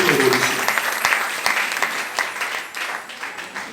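A church congregation applauds and cheers the Lord, with dense, loud clapping that fades gradually and voices calling out through it.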